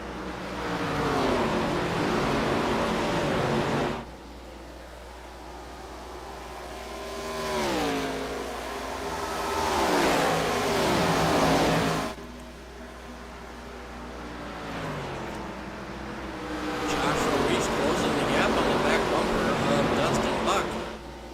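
ARCA series race cars roar past on a track in repeated surging waves, engines rising and falling as they pass, with a commentator talking over the engine noise throughout.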